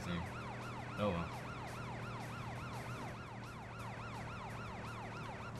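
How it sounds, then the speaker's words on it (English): A police car siren in the video game Driver 3 wails, sweeping up and down continuously, steady and fairly loud, with an engine hum underneath. "Sirens and everything."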